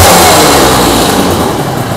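A two-stroke Aprilia RS250 250cc motorcycle engine revs loud and close, its buzzing note running steadily with no talk over it.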